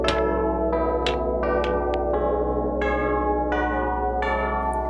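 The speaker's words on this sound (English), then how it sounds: "this is actually ringing the bells outside" Bells ringing outside in the video game Quaternion, a sequence of single resonant bell strikes at irregular intervals, each ringing on with a long decay over a low steady drone, clear and prominent.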